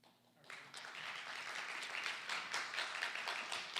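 Applause from an audience at a school board candidates forum, starting suddenly after a quiet moment and continuing as a dense, steady patter of many hands clapping at moderate volume.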